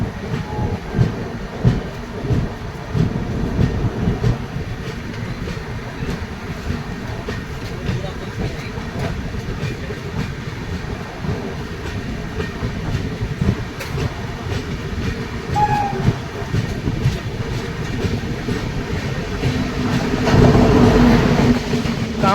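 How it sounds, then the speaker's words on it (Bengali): An oncoming express train rushes past on the adjacent track in India, heard from inside a moving passenger train as a rumbling, clattering roar that builds louder toward the end, with faint voices in the carriage. "জোরদার হংকিংয়ের সাথে সামনে থেকে আরও একটা ট্রেন ছুটে আসছে।"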